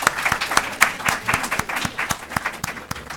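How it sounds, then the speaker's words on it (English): A room of listeners applauds a panel on Iran and Latin America at the close of a discussion, a brisk, moderately close burst of many hands clapping with individual claps standing out. "let's give our extraordinary panel a final round of applause"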